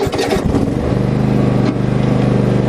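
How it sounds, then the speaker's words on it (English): A Cub Cadet XT2 LX54 lawn tractor engine runs close and loud with the mower deck engaged, settling into a steady pulsing drone after a rougher start. "turn on the mower deck"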